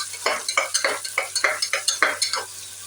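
Onions, green chillies and curry leaves sautéing in a pan for chicken kurma, a bright crackling sizzle punctuated by a quick, regular run of spatula strokes, close and fairly loud with no talking.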